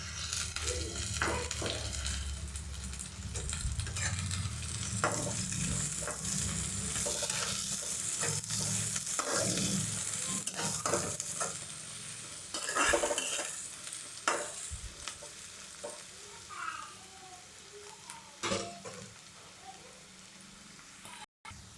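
Onions and curry leaves sizzle in oil in a pan for a South Indian cluster beans poriyal, with a spoon repeatedly scraping and stirring over the steady crackle.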